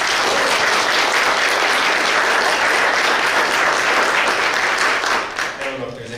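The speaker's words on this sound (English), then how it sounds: "So give a round of applause." A loud round of applause fills the chamber at a city council meeting in Brooklyn Park, a dense, sustained crowd clapping that thins out near the end as a voice begins to speak.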